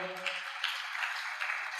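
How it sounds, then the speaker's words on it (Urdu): Sustained applause from a youth conference audience, a dense even patter of many hands clapping at moderate level, fairly steady for the whole stretch with no voices over it. "ان کے لیے بھرپور تالیاں ہو جائیں"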